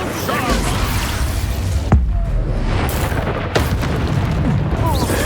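An Incendio fire spell blasting in the Hogwarts Legacy video game: a loud, dense roaring burst with deep booms, a sharp crack near two seconds and another surge around three and a half seconds, with a voice speaking over it.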